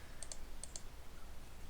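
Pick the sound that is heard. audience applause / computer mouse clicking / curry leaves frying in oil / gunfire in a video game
computer mouse clicking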